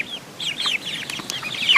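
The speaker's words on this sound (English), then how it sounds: "but we have chickens" Backyard pet chickens cluck and chatter busily close by, a flurry of short overlapping calls with no talking.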